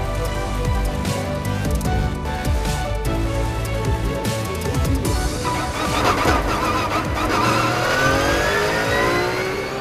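At the start of the race weekend at Val de Vienne, a pack of GT race cars accelerates hard. Loud layered engines rise in pitch and roar continuously throughout, with no speech.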